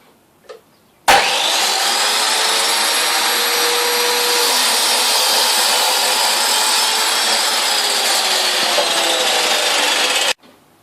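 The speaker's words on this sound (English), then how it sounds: "So I'm just going to trim the wood." A power tool starts abruptly and runs loud and steady on wood for about nine seconds, a harsh whining buzz, then cuts off sharply.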